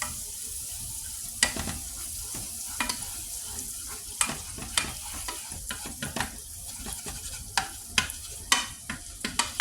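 Unsalted butter melts and sizzles in a pan for cheesy scalloped potatoes, a steady crackling fry with sharp pops and scraping stirs spread through, fairly close with no talking.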